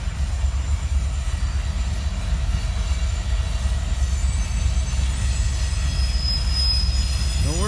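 A Union Pacific train rumbles steadily and close by at Gorham, Illinois, with a rising wheel squeal near the end.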